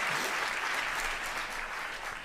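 Audience at an Unreal Engine 5 demo applauding, a dense even wash of clapping that stays loud for the whole moment.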